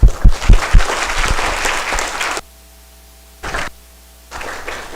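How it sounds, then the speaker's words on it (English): Audience applause at an academic talk rises in a loud burst of clapping, cuts off abruptly, then returns in two shorter bursts separated by near silence. "let's give Dr."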